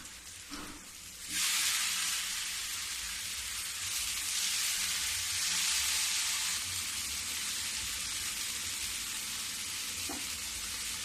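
Bottle gourd pieces sizzle steadily in hot oil in a pan as they are flipped, a loud, continuous frying hiss that swells after a quiet start, with a faint utensil clink near the end.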